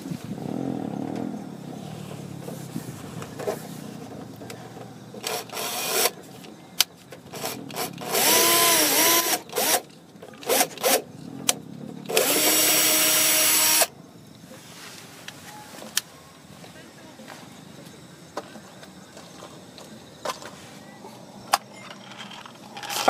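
A power drill bores a 3.6 mm hole into the body of a Toyota AE111, with short bursts of loud whirring separated by quiet pauses and small handling noises, close to the microphone.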